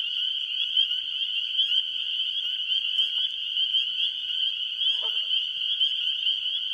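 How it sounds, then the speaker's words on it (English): Frogs sing in a marsh by day: a dense, continuous high trilling chorus that holds steady throughout, with a faint brief call near the end. "You can hear frogs singing during the day"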